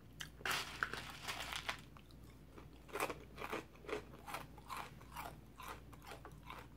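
Crunchy bites and chewing of Long John Silver's fried fish and chips, close up and fairly quiet. Irregular crisp crunches come in bursts with short pauses between them.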